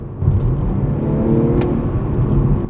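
A BMW M340i sedan accelerates hard, its engine and exhaust giving a loud, steady rising drone heard from inside the cabin with no talking.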